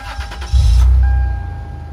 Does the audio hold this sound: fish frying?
no